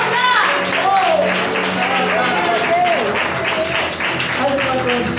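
A church congregation at a women's seminar claps steadily and loudly throughout, a dense rolling patter of many hands under a prominent voice that speaks over it.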